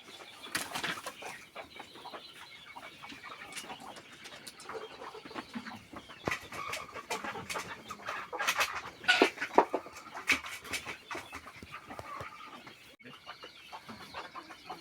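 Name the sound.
desi hens clucking while being caught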